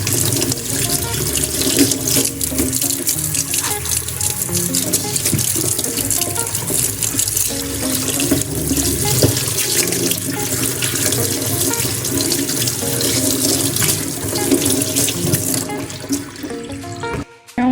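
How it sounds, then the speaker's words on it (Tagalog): Tap water runs steadily into a kitchen sink being rinsed clean, a continuous close splashing flow with small shifts as hands move through it, ending abruptly. "make sure na linisin nyo muna yung sink"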